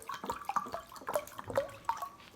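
Vinegar poured into a measuring cup, a faint series of gurgling glugs and splashes in an uneven rhythm, heard close up with no talking.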